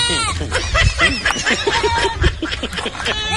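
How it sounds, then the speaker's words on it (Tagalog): A goat bleats in a few wavering, chuckle-like calls close by, mixed with other rustling and a voice in the background. "Ayan, kambing ang sumasalubong sa akin."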